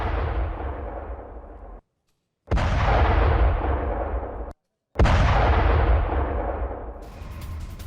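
Three heavy, booming blasts from a drone attack in Rostov, each a loud rumbling burst that decays slowly, separated by brief silent gaps.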